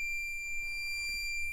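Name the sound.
2003 Toyota 4Runner beeping during key programming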